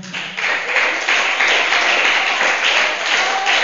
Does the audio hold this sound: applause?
yes